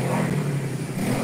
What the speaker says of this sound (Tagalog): Yung motor mo! Ang ingay!